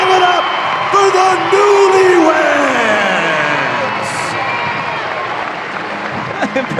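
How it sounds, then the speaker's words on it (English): Stadium crowd at a Savannah Bananas baseball game against the Party Animals roars with loud, sustained cheering, whoops and applause, swelling early then easing slightly, with an announcer's voice carried over the top. "Crowd goes crazy."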